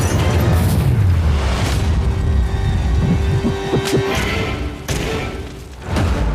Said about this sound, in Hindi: पटाखे फूटने वाले हैं